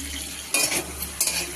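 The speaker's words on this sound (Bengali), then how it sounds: "আমি আবার ভাজা বসিয়েছিলাম সয়াবিনটা" Soybean chunks frying in a pan, a close steady sizzle with two quick scraping stirs of a utensil against the metal, no voices.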